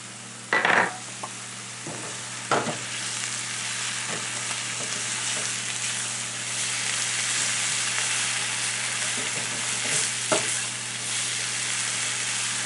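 Onions fry with a steady sizzle in a pot for a ground beef and tater tot casserole, with a few scraping stirs of a utensil cutting through near the start and again later; no one talks.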